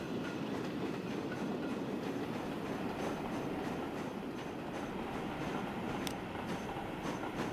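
A train rolling through a station bypass in Transport Fever 2, a steady rumbling rail drone with faint rhythmic clacks and occasional brief squeals, continuous and moderately loud throughout.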